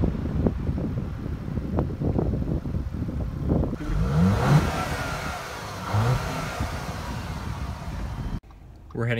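An Audi A4 with an APR Stage 1 tune pulls away and accelerates, its engine revving and rising in pitch amid steady wind noise before cutting off abruptly near the end.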